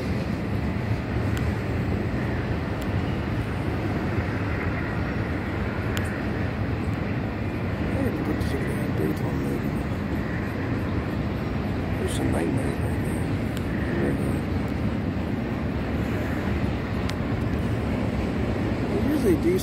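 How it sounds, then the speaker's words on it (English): A long Norfolk Southern freight train of containers and piggyback trailers, pulled by three diesel units, rumbles past under Queen Street with a steady, loud roar and occasional clanks. "A decent sized train"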